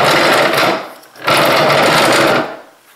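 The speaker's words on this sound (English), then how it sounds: "So here's what I don't like about this vise. It's a rattling chatter." A bench vise rattles and chatters loudly in two long bursts of rapid mechanical clattering, separated by a short pause, with no talking.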